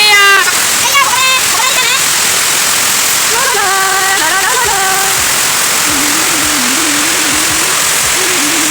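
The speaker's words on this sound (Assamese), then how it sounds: "পুৰা দবা পিটা বৰষুণ আহিলে।" Heavy rain pours down in a dense, steady roar of splashing water that lasts throughout, with pitched voice-like sounds rising over it in the first half.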